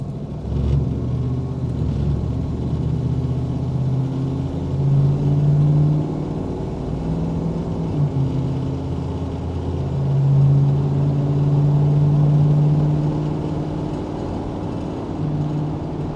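A 1972 Chevy Camaro pulls away on an open road, its low engine rumble swelling twice as it accelerates, heard steadily from inside the car with no talking.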